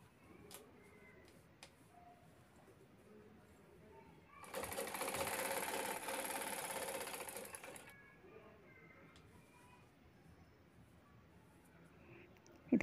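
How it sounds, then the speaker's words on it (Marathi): Sewing machine stitching a homemade bag with a lining and a centre zip: a steady, fairly loud mechanical whirr of rapid stitching lasting about three seconds, set against quiet room noise with light handling sounds before and after. "इथे तिन्ही बाजूनी शिलाई करून झालेली आहे।"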